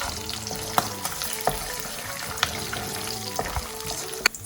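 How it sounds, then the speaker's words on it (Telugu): Peanuts frying in hot tempering oil on a stove, a steady crackling sizzle with a few sharp pops and stirring clinks, close up and with no talking. "తాలింపు కొంచెం వేగగానే పల్లీలు వేసుకోవాలి."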